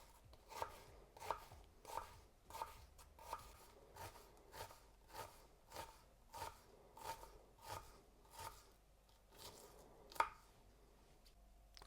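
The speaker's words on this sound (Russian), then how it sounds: "Лук нужно мелко нарезать" A knife finely chops onion on a cutting board, about fifteen even strikes at a regular pace, close and crisp with no voices.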